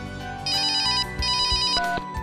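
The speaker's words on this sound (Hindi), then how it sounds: "डॉक्टर मेहता का फोन था" A mobile phone ringtone sounds for an incoming call, two bright repeating bursts of a melodic tone in a household scene, loud and close with no talking over it.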